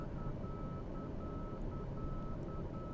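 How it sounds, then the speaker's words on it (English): A repeating electronic warning beep in Microsoft Flight Simulator 2020 during a landing at Reno, evenly spaced and moderately clear, sounding over a steady low engine rumble. "Not sure what that beeping is."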